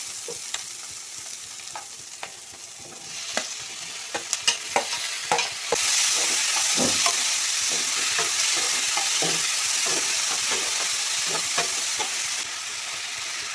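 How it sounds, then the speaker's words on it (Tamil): Tomatoes fry with onions in a pan for chicken gravy, giving a close, continuous hiss with clacking stirs that swells into a louder sizzle partway through and stays steady. "இப்போது வெங்காயம் நல்லா வெந்துருச்சு இதில் நம்ம தக்காளி சேர்த்துக்கலாம்"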